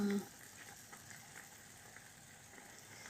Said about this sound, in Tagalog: It's boiling na.